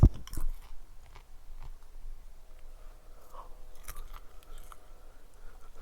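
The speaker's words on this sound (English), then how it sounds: "I'm sitting here eating popcorn and drinking tea while we're talking, so you're going to hear a lot of crunching going on." Popcorn is crunched and chewed close to the mic, with irregular crisp bites and soft chewing textures scattered over several seconds, no talking.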